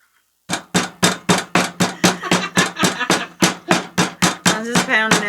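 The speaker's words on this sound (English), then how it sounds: "I'm just pounding out these pork loins." Meat hammer pounding pork loins for schnitzel, a steady series of about seventeen sharp, loud thuds at a brisk even rhythm, close up with no talking.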